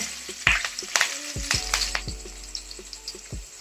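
Cumin seeds and ground green chilli hit hot oil in a pan, crackling and popping in sharp, irregular bursts, close and fairly loud, with no talk.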